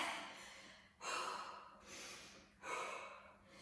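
Heavy breathing during a yoga-style HIIT workout, with three long, effortful breaths in a rising and falling rhythm, close to the mic and fairly soft, with no talking.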